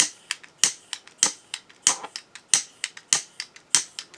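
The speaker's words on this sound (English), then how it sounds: "I'm going to get my torch here and hope that it lights and works right." Torch igniter clicking repeatedly while someone tries to light a torch that has been cutting out, with sharp, evenly spaced clicks in a fast steady rhythm, close and loud with no talk.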